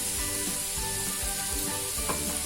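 Grated carrots and kohlrabi with chillies for a relish fry in oil in a pan, a steady close sizzle with soft stirring scrapes mixed in throughout.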